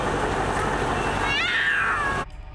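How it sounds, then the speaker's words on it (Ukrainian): A cat that survived an apartment fire by hiding on a balcony gives a drawn-out meow over steady background noise, fairly close and clear, ending abruptly. "Кіт ховався від вогню на балконі."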